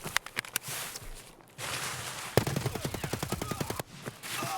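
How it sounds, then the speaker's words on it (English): Bursts of gunfire in the video game Escape from Tarkov: scattered single shots, then a rapid sustained volley of repeated cracks, loud and close, with a few more shots after, no talking. "That's a lot of shots."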